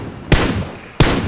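Video-game gunfire, shots fired to the beat of a song: three sharp, loud blasts, the first two about 0.7 seconds apart and the third close behind, each cutting off quickly with no talk.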